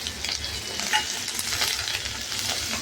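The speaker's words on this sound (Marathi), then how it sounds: "मिरच्या तेलात तळून घ्यायच्या छान" Green chillies frying in hot oil with curry leaves in a kadhai, a steady close sizzle with occasional stirring scrapes and small pops, no voices.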